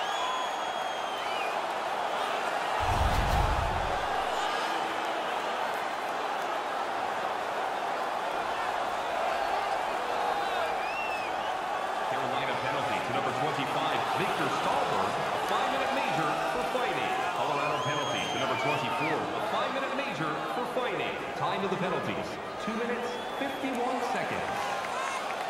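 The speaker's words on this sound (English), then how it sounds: "The crowd is so pumped right now." An arena crowd roars steadily in the NHL 17 ice hockey video game after a Hurricanes player wins a fight, a broad sustained cheer with scattered claps, and commentary talking over it throughout.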